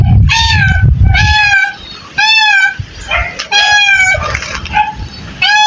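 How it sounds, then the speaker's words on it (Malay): A cat trapped in a manhole meows repeatedly, with about five clear, drawn-out cries in quick succession that sound close and fairly loud over low background rumble. "saya macam terdengar suara kucing"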